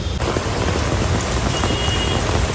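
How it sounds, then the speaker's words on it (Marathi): A heavy downpour roars continuously at a town square, a loud, dense hiss of rain striking surfaces with no break and no voices. "पाऊस चालू झालाय जोराचा"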